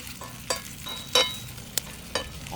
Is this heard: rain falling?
no